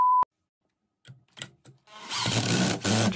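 Power drill driving in, a short whirring burst after a beep and a few clicks, then a loud steady grinding drive that runs to the end.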